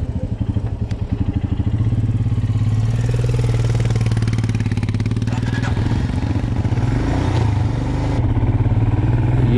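A new motorcycle on temporary plates idles at a roadside paperwork checkpoint on the mountain road to Khardung La in Ladakh, its steady, close, throbbing rumble continuing evenly throughout.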